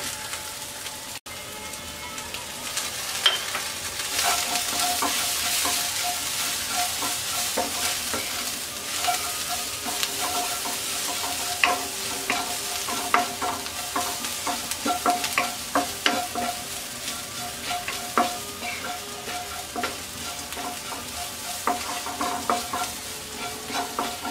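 Shrimp frying in a pan with coriander leaves, a steady bright sizzle with scattered crackles and occasional stirring scrapes, close and continuous with no talking.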